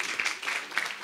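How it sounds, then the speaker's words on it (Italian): Brief, faint applause from a crowd in a town square greeting the defenders of a women's football team, a soft patter of clapping lasting about a second. "Un applauso ai difensori!"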